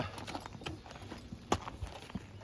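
Hooves of a bay horse on a summertime horse-logging job clip-clop in an uneven walking rhythm, faint and fairly close, with no talking.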